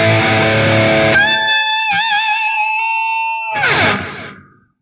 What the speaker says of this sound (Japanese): それに対してアナログのディストーション部を使うとこうなります。